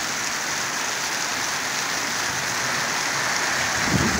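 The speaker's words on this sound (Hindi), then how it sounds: "बहुत शानदार मौसम हो चुका है और बड़ी तेज़ बारिश लगी हुई है।" Heavy rain pours down in a loud, unbroken roar, steady and close throughout, in Jhelum, Pakistan.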